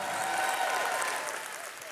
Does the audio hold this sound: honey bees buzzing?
no